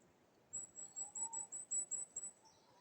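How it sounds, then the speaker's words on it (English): An owl calling outdoors: a quick run of about ten thin, high-pitched notes in a steady rhythm, faint and distant, with no voices. "That's an owl."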